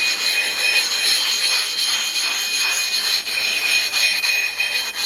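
A sharpening stone being dressed with 60-90 grit abrasive, a steady gritty rubbing and scraping in repeated back-and-forth strokes, close and continuous throughout with no talking.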